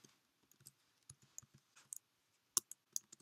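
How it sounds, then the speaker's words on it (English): Computer keyboard keys tapped while entering Java Selenium WebDriver setup code, a close, irregular run of crisp clicks with short pauses between bursts and no voices. "You will need to type the following code: system.setProperty."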